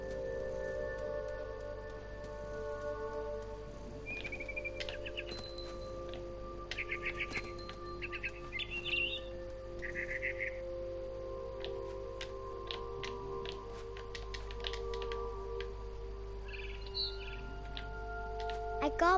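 Short, bright bird chirps and tweets from the video game What Remains of Edith Finch ring out in scattered bursts over a steady low hum, with a faint voice partway through.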